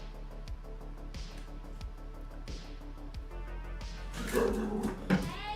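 Dogs bark indoors in a short burst of sharp, fairly loud barks toward the end, following a stretch of quiet room noise with steady low background tones.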